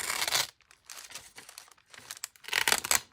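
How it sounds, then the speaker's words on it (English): A sheet of watercolour paper ripped off a pad in several crisp tearing bursts, close and loud, with short quiet pauses between them. "Rip this off."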